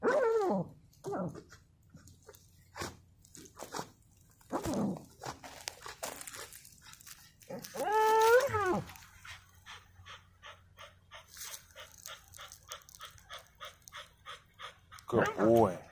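A working dog pants in quick, steady rhythm close by, broken by a few high whimpers, with a voice breaking in now and then.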